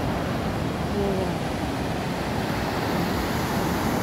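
Large ocean waves break on the shore at Noja, Cantabria, Spain, a continuous loud roar of surf mixed with wind buffeting the microphone.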